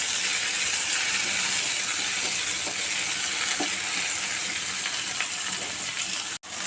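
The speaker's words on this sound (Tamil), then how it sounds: "தக்காளி இதில் நல்லா அந்த எண்ணெயிலே கொஞ்சம் வதங்கிடட்டும்." Tomatoes sautéing in oil in a pan give off a loud, continuous sizzling hiss, close up, with faint scattered scrapes and a brief cutoff near the end.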